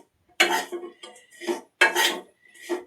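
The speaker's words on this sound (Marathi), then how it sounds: "तेल न घालता आता खोबरं पण भाजत आहे" Coconut dry-roasts in a pan with no oil, giving two loud bursts of a metal spatula scraping and clattering against the dry pan, each trailing off into quieter rattles, close up and with no sizzle or speech.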